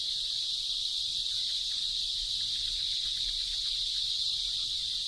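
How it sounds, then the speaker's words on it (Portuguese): Cicadas sing in a forest, a continuous high, shrill buzzing that stays even and unbroken from start to finish, with only a faint low rumble beneath. "Em cada árvore pode haver centenas de cigarras e centenas de milhares delas em toda a floresta."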